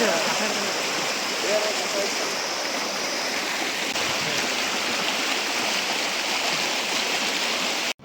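Rushing water roars continuously and loudly, a steady broadband churn of a swollen stream flowing fast, with faint voices mixed underneath.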